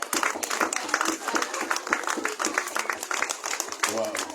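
A standing church congregation applauds the apostle with a burst of clapping that runs under ongoing talk and shouts from the room.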